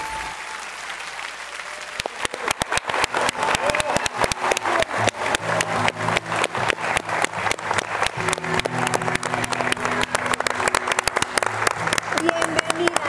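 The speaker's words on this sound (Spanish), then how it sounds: "Ya me aplaudieron los hombres de todo el equipo" Studio audience applause on a Mexican morning TV show, starting abruptly after a quiet moment and continuing as dense, loud, sustained clapping with music underneath and voices mixed in.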